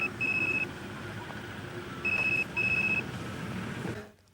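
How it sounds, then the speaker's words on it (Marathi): An indoor telephone rings in short electronic bursts, one brief burst and then a pair, fairly faint against a quiet room, before the sound cuts off. "लक्ष्मी जरा फोन बघ"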